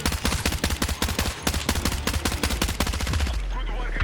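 Rapid automatic gunfire from a gun in the video game Battlefield 6, a fast loud burst of crisp cracks repeating steadily for several seconds before cutting off.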